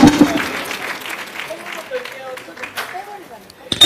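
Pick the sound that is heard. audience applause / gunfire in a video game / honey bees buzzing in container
audience applause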